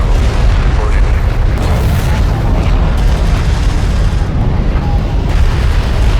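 Dense, continuous booming explosions and weapon fire from a Homeworld: Deserts of Kharak battle rumble loudly without letup, with voices talking over the din.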